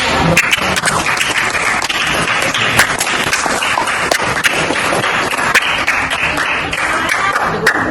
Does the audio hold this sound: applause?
yes